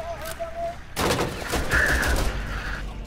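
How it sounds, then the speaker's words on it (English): Dense bursts of rapid gunfire erupt in a video game shootout, loud and sustained after a brief quiet start, with a faint voice in the background. "I just shot someone"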